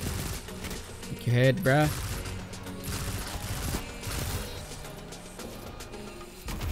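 Vigilance Wing exotic pulse rifle bursts in Destiny 2 gunfire, a few sharp shots around the middle amid other game noise, with a player talking briefly over it.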